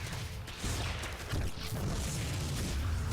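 Cannon fire in a StarCraft match as it shoots at worker drones: a run of dull, booming low thuds layered over steady, dense game noise, fairly loud throughout.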